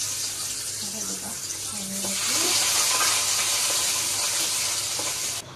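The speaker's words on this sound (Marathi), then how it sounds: "आपण तूप टाकलं होतं, तुपाची फोडणी दिलेली आहे." Ghee tempering for palak paneer sizzles in a pan as a loud, dense, steady hiss that grows slightly stronger partway through and cuts off abruptly at the end.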